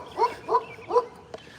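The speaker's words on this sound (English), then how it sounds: "Oh, big dog on the fence there." A big dog barks three times behind a fence outdoors in a small town, close and evenly spaced, with a short gap before a faint click.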